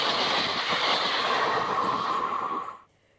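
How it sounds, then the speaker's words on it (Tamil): An electric train runs at high speed, about 120 km/h, on a trial run on the Madurai–Bodinayakanur line, a loud, steady roar with a bright whine that cuts off abruptly near the end. "மதுரை போடி நாயக்கனூர் இடையே மின்சார ரயில் அதிவேகமாக இயக்கப்பட்டு சோதனை ஓட்டம் நடைபெற்றது."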